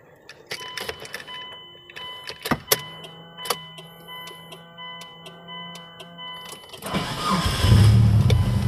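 Clicks and ticks in the cabin of a 1998 Mitsubishi Lancer Evo 5 2.0 turbo, then the engine cranks and roars to life near the end, a loud rumbling idle taking over.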